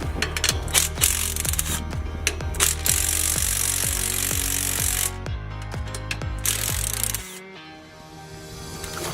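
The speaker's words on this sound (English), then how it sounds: "we're going to pull off these 5 nuts that hold this backing plate in place" A ratchet clicks in rapid, rhythmic strokes while the nuts holding an RV brake backing plate are loosened. A steady mechanical hum runs underneath, then cuts off near the end.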